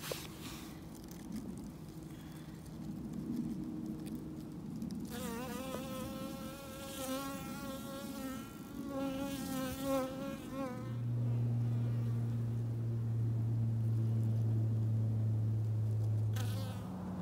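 Honeybees buzz steadily close by around a hive, a dense drone with rising and falling pitch, swelling louder toward the end.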